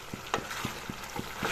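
Chicken curry with brinjal being stirred in a pot, a regular series of soft scraping strokes, about six in quick rhythm, over a faint steady sizzle.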